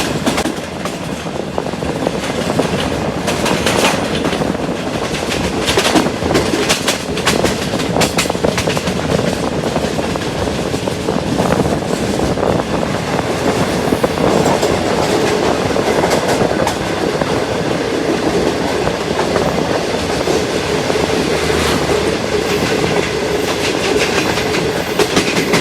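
Pakistan's Green Line Express, a luxury passenger train, rolls along the rails with a loud, steady rumble and continuous clickety-clack of wheels, heard from on board without pause and without voices.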